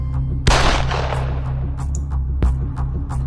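A gunshot rings out in a Marathi short film, one sharp loud blast followed by a long decaying echo, then a second, smaller crack about two seconds later over a low steady hum.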